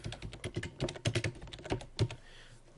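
Close, crisp keystrokes on a computer keyboard as text is typed into a photo design program, a rapid uneven run of clicks ending in a short pause.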